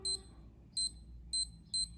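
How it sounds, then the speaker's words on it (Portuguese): A SKMEI 1155B digital watch sounds its alarm in four short, shrill electronic beeps at an uneven rhythm, close and clear over a faint background hum, with no talking. "tem aquele bip de hora em hora e o bip para despertar"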